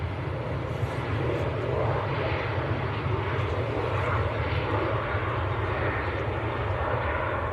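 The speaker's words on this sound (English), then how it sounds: "We've also got an AirX Embraer Legacy taxiing out." An AirX Embraer Legacy business jet taxiing at Manchester Airport gives a steady, unbroken roar of engine noise with a faint whine on top, holding the same level throughout.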